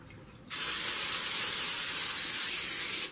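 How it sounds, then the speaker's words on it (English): A single long hiss of cooking oil spray onto the tops of empanadas, close and steady, lasting a couple of seconds before cutting off. "Alright, I'm going to spray the top of them."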